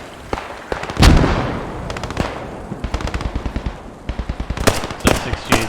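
Video game battle gunfire from rifles and rifle grenades: rapid bursts of sharp shots, a heavier blast near the start, then volleys of cracks in quick rhythmic strings.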